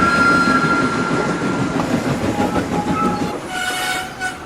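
A steam locomotive pulls a train, its sustained whistle sounding over rolling, clattering wheels, loud and close, with a brief higher whistle tone near the end.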